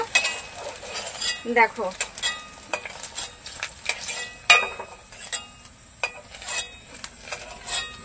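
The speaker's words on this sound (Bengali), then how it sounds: "আমার ভাজা প্রায় হয়ে গেছে এগুলো" Small pieces of dough puff up as they fry in hot oil in a home kitchen pan, with a steady light sizzle and repeated scraping and clinking of a stirring spoon, and a voice speaks briefly.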